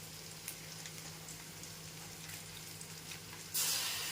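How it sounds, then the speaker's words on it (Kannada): Onions frying in a pan with salt and turmeric give off a steady, soft sizzle with a low hum beneath, ending in a brief louder hiss near the close. "ಚೆನ್ನಾಗಿ ಫ್ರೈ ಮಾಡ್ಕೊಬೇಕು"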